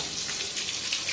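Banana blossom being rinsed in water, a steady close splashing and trickling like running tap water that keeps going without a break, with no voices over it.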